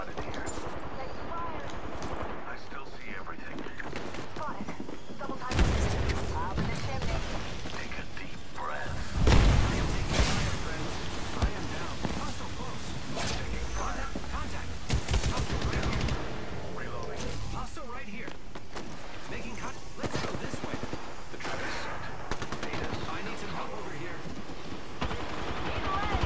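Weapons fire in Apex Legends in dense, busy bursts mixed with explosions and other game effects, with a player talking over much of the action.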